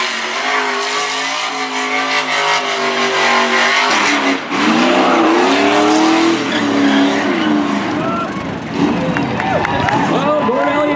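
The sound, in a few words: race truck doing a celebratory burnout on the front straight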